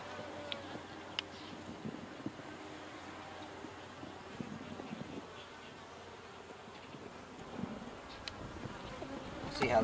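Honey bees hum and buzz over a healthy brood frame lifted from a horizontal hive split, a dense close drone with occasional louder passes of single bees and faint handling noise.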